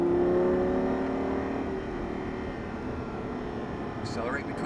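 A Lamborghini Gallardo Superleggera accelerates out of a corner on a track, its engine droning loud and close with a steady roar that eases slightly, a driving instructor's voice faintly audible near the end.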